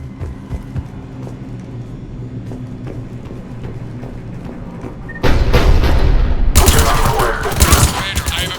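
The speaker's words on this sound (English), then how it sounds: "The cannon fire is clearing the way" Heavy cannon fire in the Mass Effect 3 video game bursts in as a loud, dense barrage after a quieter stretch of low rumble and faint mechanical clatter.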